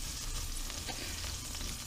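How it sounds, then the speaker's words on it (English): A pinch of flour dropped into hot oil in a pan gives a loud, continuous close-up sizzle and crackle. "take a pinch of the flour in your fingers and drop it in and see if it sizzles"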